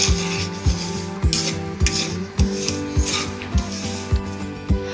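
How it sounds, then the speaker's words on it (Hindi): Semolina (suji) roasting in a pan for halwa, a spoon scraping and stirring against the metal in a steady rhythm of regular clinks and rasps, with no talk over it. "अब हम इसमें 1 कप सूजी डाल देंगे और इसको अच्छे से भून लेंगे।"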